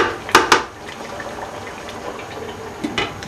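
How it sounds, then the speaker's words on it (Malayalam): Rice with split green chillies simmering in a covered pot for erachi choru. Soft, steady bubbling runs throughout, with a few sharp clinks of the pot or lid near the start and end. "ചോറ് നല്ലോണം തിളച്ചിട്ടുണ്ട്"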